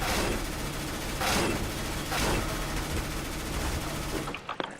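Rapid bursts of P90 submachine gun fire in CS:GO, loud and close, with dense repeated shots filling the stretch and a few sharp separate pops near the end.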